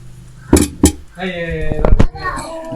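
A cooking pot is shifted onto a stove, giving two sharp metallic clanks followed by ringing scrapes and clinks of metal against metal, close and loud, with a voice talking in between.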